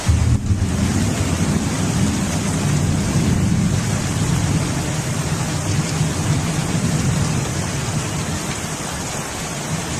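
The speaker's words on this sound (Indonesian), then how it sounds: "Nah, hujan." Heavy rain pours steadily and loudly throughout, a dense continuous hiss with a deep rumbling undertone like distant thunder, no voices.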